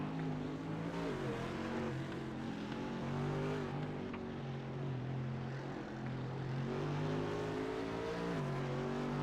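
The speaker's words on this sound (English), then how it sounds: "The Mercs sound incredible, the Audis sound nasty." Mercedes and Audi GT race car engines roar in an iRacing sim race at the 12 Hours of Sebring, a steady droning engine note with shifting pitch as cars rev and shift, loud and continuous without talk.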